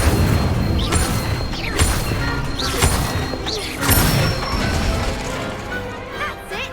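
Fire spell cast in a Hogwarts video game, a string of loud whooshing blasts and crashing bursts in quick succession, layered with busy game effects.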